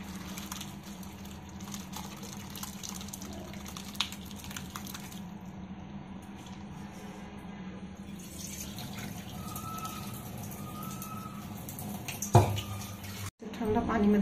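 Running water pours steadily from a tap over fresh homemade paneer, close and continuous, with handling noises and a brief clatter near the end.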